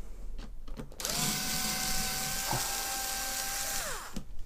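Small power screwdriver whirring steadily as it backs out the screws holding a laptop's back cover over the hard drive, a close, sustained high whine with light clicks before and after.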